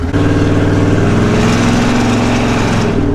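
A loud, rumbling modified car engine idles with a steady low throb and dense harmonic growl, close and continuous throughout.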